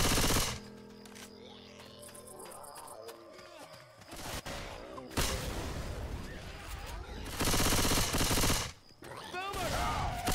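Rapid automatic gunfire in a shooting video game, with bursts of loud shots and booming blasts over a running background mix, and people talking intermittently.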